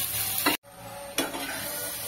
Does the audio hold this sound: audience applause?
no